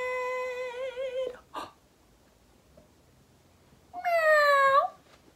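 A human voice imitates a cat meowing, giving two drawn-out, wavering high meows separated by a short breathy sound and a pause of near silence, close and clear.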